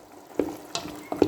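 A spoon stirs peas and seasoned chicken frying in a pot with rice, salt and cumin, making a few soft scraping stirs over a steady low sizzle, close and moderately loud.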